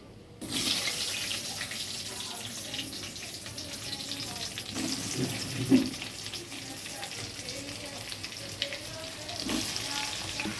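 Sun-dried mango pieces rubbed with turmeric and salt drop into a hot pan for pickle, setting off a sudden sizzle that keeps frying steadily, with stirring clatters and a few knocks.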